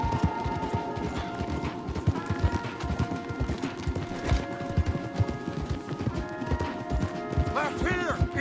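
Horses gallop hard in Red Dead Redemption II, a steady drumming of hoofbeats with occasional whinnies, running under characters' spoken dialogue throughout.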